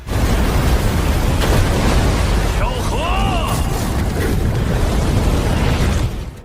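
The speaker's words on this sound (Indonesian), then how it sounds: "Setelah membenturkan sayap masing-masing dan menyebabkan efek ledakan, Tianyang yang pakai jurus pamungkasnya" Animated explosion effect as two fighters clash their wings: a loud, sustained roaring blast of broadband noise lasting several seconds, with faint swooping tonal whooshes partway through.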